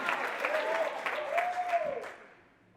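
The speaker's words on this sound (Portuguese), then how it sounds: "Se você acredita nisso, aplauda Jesus." A church audience applauds at a sermon, a dense spread of clapping with a rising and falling vocal tone or whoop over it, fading out toward the end.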